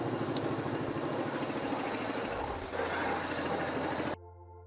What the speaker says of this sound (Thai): ช่วงนี้เราก็รอให้พัดลมทำงานนะครับ